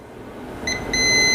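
A multimeter on continuity test beeps while probing ground on a Samsung M11 phone board during a charging repair: a short high electronic tone, a brief gap, then a steady sustained beep.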